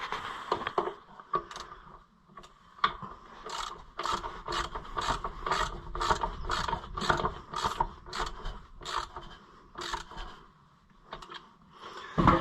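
A ratchet with an extension turns bolts on a Maytag model 92 washing machine engine, making a close, steady run of rapid clicking strokes with faint scraping, and no talk.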